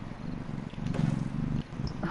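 A domestic cat purrs close to the microphone, a low rhythmic rumble that builds and holds over about two seconds.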